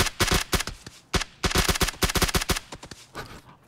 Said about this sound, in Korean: 둘 다 총소리는 들었죠, 이거?